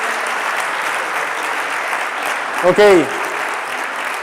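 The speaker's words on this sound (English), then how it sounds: "Big round of applause for Favoro, please." Audience applauding after a startup pitch at a final gala, a sustained, even roar of clapping, briefly interrupted by a man's short spoken word near the end.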